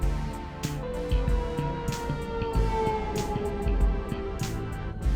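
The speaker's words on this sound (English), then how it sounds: "Fire truck." A fire truck siren wails in a long, slowly falling tone, somewhat distant, mixed in with other busy background noise.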